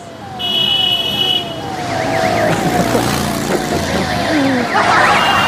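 Busy roadside traffic with sirens wailing and horns sounding, loud and close, while a person talks over the din.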